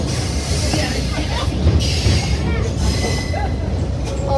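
Blue Ridge Scenic Railroad passenger train rolling along its rails near McCaysville: a loud, steady low rumble of wheels and car body with faint squeals and clatter, heard from aboard the moving train.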